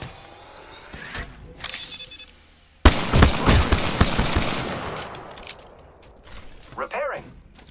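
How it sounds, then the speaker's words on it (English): Enemies shooting in a video game: after a quieter opening with mechanical clicks, a loud burst of automatic gunfire breaks in and then thins to scattered shots, with voices heard in between. "The enemies are shooting!"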